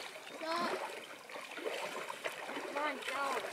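Water splashes as people wade through a river section on the Bark Lake Loop canoe circuit, the sloshing irregular and fairly faint, with voices talking over it.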